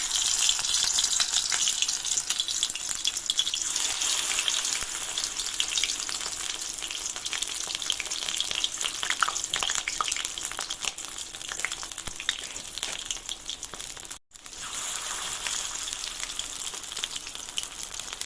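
Water lily flower fritters frying in hot oil: a loud, continuous close-up sizzle and crackle that holds steady throughout, dipping sharply for a moment near the end.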